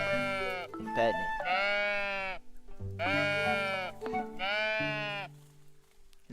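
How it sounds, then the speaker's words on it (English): Sheep bleat in the video game Tiny Glade, several long wavering bleats in a row, loud and close, with a person briefly talking between them. "Oh, sheep."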